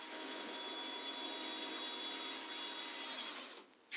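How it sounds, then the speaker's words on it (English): A power drill boring a hole into wood whines at a steady, even pitch for several seconds, close and fairly loud, then cuts out abruptly near the end. "See, I'm drilling a hole there."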